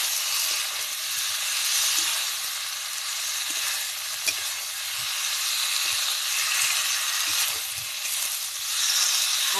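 Fried potato and cauliflower are stirred in a frying pan, a steady close sizzle broken by repeated scraping strokes of the spatula, with no talking.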